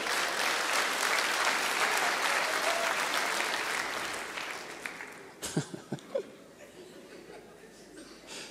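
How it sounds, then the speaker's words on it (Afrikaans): A live audience at a comedy show applauds loudly and steadily with some laughter, the clapping fading after about five seconds into a few short bursts of talk. "Kom ons geef vir hulle lekker hande klap"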